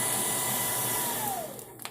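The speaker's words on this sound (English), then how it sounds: "a hair dryer with a dimmer switch that I wired in. Turn it on, full blast" A hair dryer with its heating element removed, wired to a dimmer switch, runs at full blast with a steady, loud roar, then its motor pitch slides down as it is turned lower near the end.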